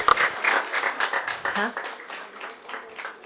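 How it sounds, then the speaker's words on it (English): Applause from the audience at a magazine intern farewell ceremony, a burst of clapping mixed with cheering voices that thins out and fades over a few seconds. "big round of applause"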